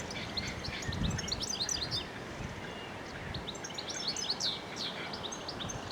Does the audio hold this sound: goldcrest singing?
yes